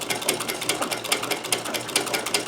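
A sewing machine stitches a buttonhole on a shirt collar or French cuff, its needle hammering in a rapid, even rhythm of close, sharp mechanical taps through the whole short stretch.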